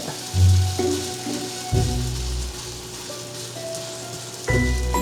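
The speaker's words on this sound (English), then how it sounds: "we're just gonna flip our steak now" A steak sizzles and spatters in a hot pan, with a burst of louder frying as it is flipped, then a steady crackle that swells again near the end.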